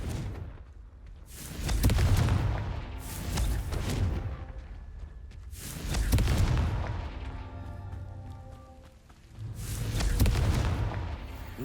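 Confringo blasting spell in Hogwarts Legacy: three heavy, booming explosions a few seconds apart, each swelling and fading into a rumbling tail, loud and close.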